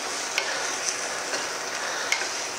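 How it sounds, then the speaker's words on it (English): Chicken and broccoli stir-fried in an oil-free wok give a steady, soft sizzle with faint stirring scrapes and a few light ticks throughout. "So now we're going to add in our broccoli. We're going to toss that around a bit."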